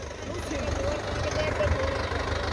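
A tractor engine, one of the machines in a double-disc harrow pulling contest between a Massey Ferguson 385 and a YTO 604, idles with a steady low rumble throughout, under a general outdoor noise bed.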